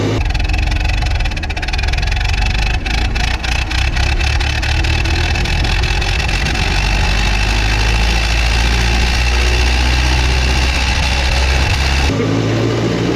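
Engine of a 1916 Ford Model T Touring car running steadily during a test drive, a loud, close, rattling drone that holds evenly before dropping off near the end.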